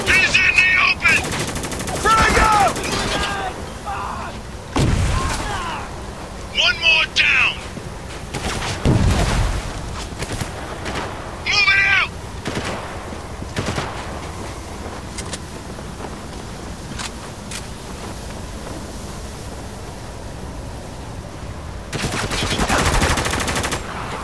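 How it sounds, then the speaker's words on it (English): Heavy gunfire in the video game Spec Ops: The Line, with repeated automatic bursts and single shots, some near and loud, others distant, set against a steady windy battlefield background. "Taking some heavy fire here!"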